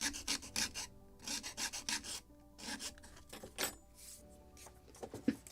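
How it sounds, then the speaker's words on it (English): A hand file rasps against a wooden part for a 1776 gunboat Philadelphia ship model kit, in short repeated strokes with brief pauses, close and fairly quiet. "or just sanding with the file."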